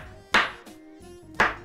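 A knife chops pistachios on a board for a pistachio orange cake, two sharp distinct chops about a second apart with a softer knock between, close and clear, no talking.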